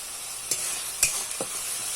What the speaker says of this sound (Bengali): এবার ভালো করে কষিয়ে নিন